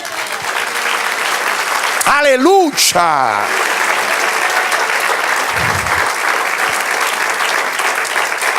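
A church congregation claps loudly and continuously in praise, with a voice shouting a brief exclamation partway through over the sustained applause.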